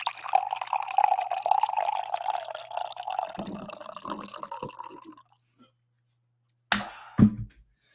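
Liquid poured into a glass, a steady gurgling stream for about five seconds that tapers off, followed after a pause by a short splash and clink.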